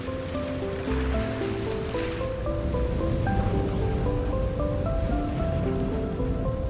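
Storm-driven waves churning on an alpine foothill lake, a continuous loud wash of surf with a low rumble and a faint tonal hum underneath.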